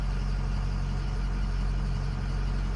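A diesel truck engine idles steadily and close, a continuous low rumble with an even, unchanging drone and no voices over it.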